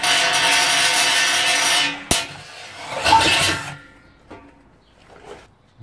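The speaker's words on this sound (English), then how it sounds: "we're just enlarging the hole, just with a twist bit" A hand drill enlarges a hole with a twist bit in metal during a keg build, running as a loud steady whir for about two seconds, then a sharp knock, a short second burst and quieter scrapes and taps.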